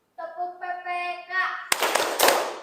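A class in a school classroom performs a rhythmic clapping cheer: a voiced chant-like call comes first, then a burst of group clapping in quick rhythm.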